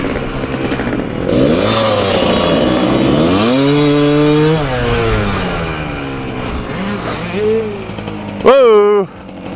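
A Honda CR500 two-stroke dirt bike revs on a trail ride, its engine note rising and falling in loud sweeps with a sharp burst near the end, while a rider talks over it.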